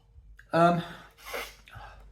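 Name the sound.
sniffing a glass of cider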